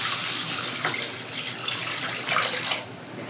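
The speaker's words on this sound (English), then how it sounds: "And we're going to just cover it with water." Water pours steadily into a pot of chicken feet and necks for broth, a close, continuous splashing gush with no talk.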